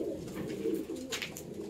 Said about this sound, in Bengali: ডান হাতেরটা নর পায়রা আছে রেগদার, আর বা হাতেরটা মাদি পায়রা আছে।